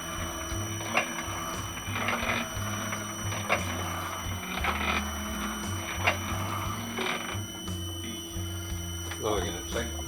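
On a Westwood garden tractor mower crankshaft, a pulley turns in a lathe and scrapes as it rubs. A steady mechanical whir runs throughout with rhythmic scraping ticks close by, while a voice speaks now and then.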